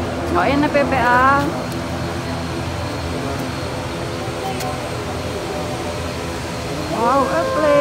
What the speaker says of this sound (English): Wow, a plane.